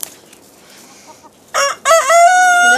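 A backyard chicken gives a loud, close crow lasting about a second, after a short burst of squawking against quiet surroundings.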